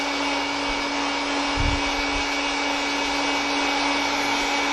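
A heat gun blows hot air over a rifle bolt, a loud, steady, unbroken blower roar with a fixed motor whine and one brief low thump partway through.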